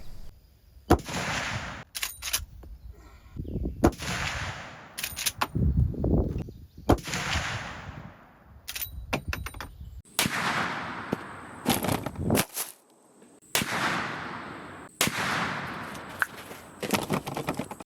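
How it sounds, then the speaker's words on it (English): .45-70 rifle firing Federal PowerShok 300 grain rounds into ballistics gel outdoors, about a dozen loud, sharp shots at irregular intervals, each followed by a short echoing decay. "after shooting that Federal PowerShok 300 grain load for the 4570"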